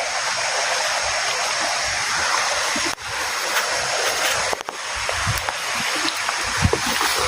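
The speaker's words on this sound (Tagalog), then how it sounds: "So dito na tayo sa may sapa" A forest stream flows along a steep, rough trail, a close continuous rushing of water with a few brief knocks and rustles from movement nearby.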